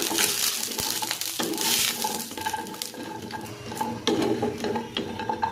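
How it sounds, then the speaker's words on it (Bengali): Water poured into a pan of frying kumro bori hisses and bubbles loudly up close, mixed with clattering scrapes of a utensil against the pan throughout, without any speech. "এখন এর ভিতর সিদ্ধ হওয়ার জন্য পরিমাণ মতো পানি দিয়ে দিলাম।"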